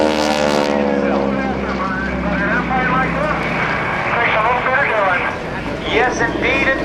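Engine drone of a restored North American Texan propeller airplane at the 2010 NAS Oceana airshow, loud and steady beneath a man's continuous announcing.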